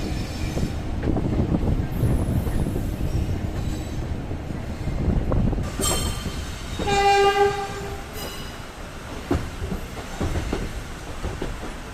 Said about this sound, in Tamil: ட்ரெயின் ஹார்ன் அடிச்சிட்டாங்க